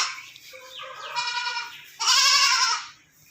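Young goats on a livestock farm bleat loudly and close by, one long wavering call followed by a second, stronger bleat, with no talking.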